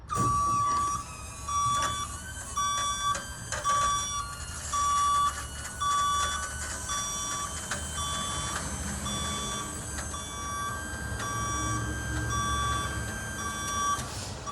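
A fire truck's ladders are lowered while a loud, regular warning beep repeats about every second over a mechanical whirr and truck rumble, no talk.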